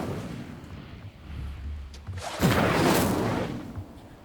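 A whooshing burst of flame as the Incendio fire spell is cast in Hogwarts Legacy, rising near the middle and lingering for about a second over a low ambient rumble.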